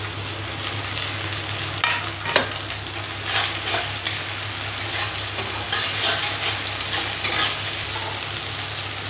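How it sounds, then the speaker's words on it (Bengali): Garlic paste frying in oil for mutton curry, a continuous close sizzle with occasional spatula scrapes and stirring knocks, steady throughout with a low background hum. "এখন বেটে নেওয়া রসুন আধা, অর্ধেকটা মটনের সঙ্গে ম্যারিনেট করেছি, অর্ধেকটা দিয়ে দিচ্ছি।"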